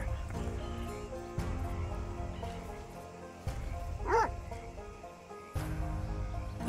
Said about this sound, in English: Get the fucking dog out of here.